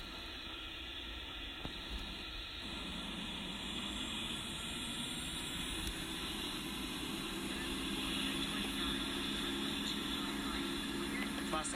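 Jet airliner taking off in the Infinite Flight Simulator game: a steady, loud engine roar with hiss that builds gradually, and rising whine tones as the engines spool up.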